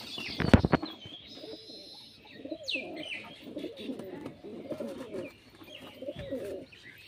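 Giribaz pigeons, including a good-quality single hen, coo in close, repeated throaty phrases, with a sharp knock or brief wing flutter near the start and no talking.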